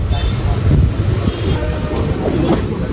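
Passenger train on the Mysuru–Chamarajanagar line rolling into Ashokapuram railway station: a loud, close low rumble of wheels and carriages with rattling clatter and a faint high squeal, under a voice speaking.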